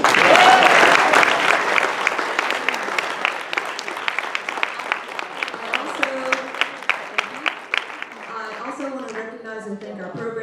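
An audience at a community candidate forum applauds loudly, the dense clapping thinning into scattered individual claps that fade toward the end, where a voice begins talking.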